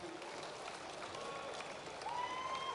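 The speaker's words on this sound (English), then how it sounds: "give him another round of applause" Audience applause at the Golden Shears 2014 shearing competition after the ladies' final: continuous clapping from a hall crowd, steady and moderately distant, with a faint voice underneath.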